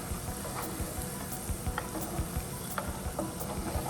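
Battered cauliflower pieces for gobi manchurian deep-fry in hot oil, giving a dense, continuous sizzle with small bubbling pops throughout.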